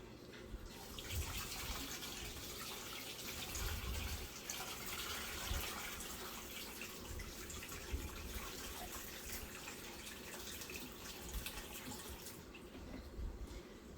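Tap water runs steadily to refill a freshwater aquarium during a water change, a soft continuous splashing and gurgling rush with faint low thumps, quiet and unbroken throughout with no talking.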